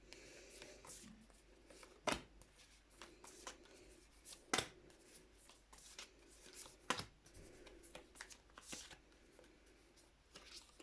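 Tarot cards shuffled by hand, soft riffling and papery slides broken by several sharper snaps and taps, close and quiet, with no talk.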